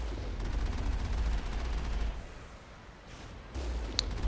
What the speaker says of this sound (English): Looks like these guys are using, ooh, look at that, a turret.